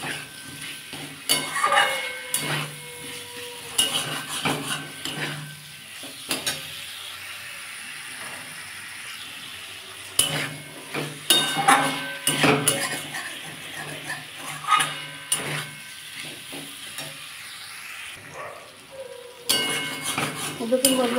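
Potatoes are stirred and sautéed in a pan for a vegetarian potato and ridge gourd broth, with repeated clattering scrapes and clinks of a spoon against metal, separated by quiet stretches of soft sizzling.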